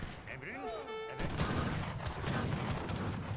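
Abus guns firing in the Age of Empires 3 battle, a dense volley of cannon-like booms and crackling gunfire breaking out after a short lull, with a commentator talking over the fight.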